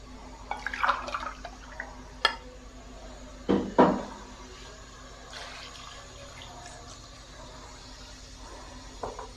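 Half a glass of water goes into a pot of Peshawari mutton namkeen gosht, heard as a couple of brief splashes midway over a quiet kitchen hum, with a few faint clicks and knocks around them.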